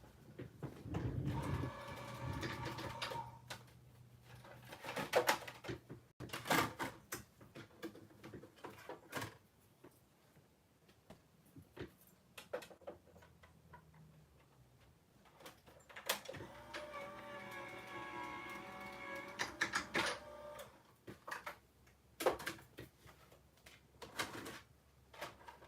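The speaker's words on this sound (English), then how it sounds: "lay it on your cutting machine, which I'm going to do right now" An electronic die-cutting machine works on paper, with intermittent whirring and clicking bursts at the start and again midway, separated by quiet handling noises, all fairly faint and close.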